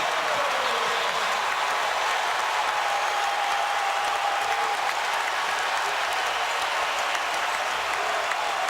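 Sustained crowd cheering and applause filling a college basketball arena during a Syracuse Orange versus North Carolina Tar Heels game, loud and continuous from start to finish.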